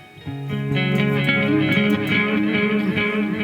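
Electric guitar notes ring out close and sustained through a Line 6 Helix, with repeating delay echoes trailing behind each phrase and building into a layered ambient tone.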